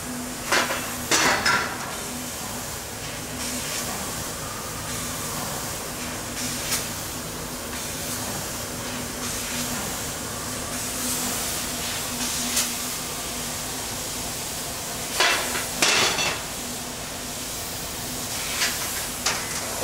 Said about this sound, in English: now all the parts are dropping down onto the scrap box